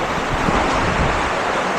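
Strong typhoon wind roars steadily and loudly, buffeting the microphone with a constant rushing noise.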